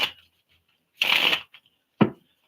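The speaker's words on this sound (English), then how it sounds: "So we're going to get a full shuffle on this one as well." Tarot cards are shuffled in three short bursts: a quick riffle, a longer rustling shuffle lasting about half a second, then a sharp final snap, close and crisp with silence between.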